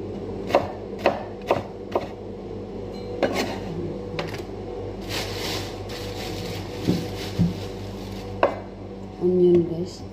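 Onion being chopped on a cutting board for an Arabic-style chicken sandwich, a series of close knife taps at an uneven pace over steady kitchen background noise.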